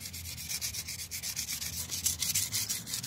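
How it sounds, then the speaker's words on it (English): Dried primer on a BMW 325i body being lightly sanded by hand with 400 grit sandpaper during rust repair, a close, steady rhythmic rubbing of quick back-and-forth strokes with no talking. "go over it really lightly with 400 grit sandpaper and just try to smooth it down"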